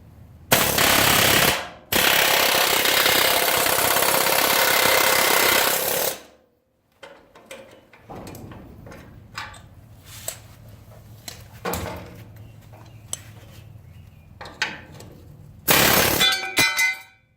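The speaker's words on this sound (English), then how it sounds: "Use a chisel, peel this thing away off the rivets." A chisel, likely air-driven, hammers at the rivets of a Ford F250 truck frame during restoration in long, loud rapid bursts, followed by scattered metallic knocks and clangs, with one more short burst near the end.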